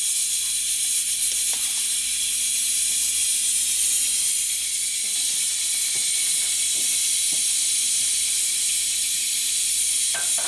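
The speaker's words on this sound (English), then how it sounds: "Then we're going to cover it and have it steam." Rice cooking in water under a lid in a pot gives off a steady, even hiss of steam that runs unbroken throughout, with faint clicks beneath and no talk.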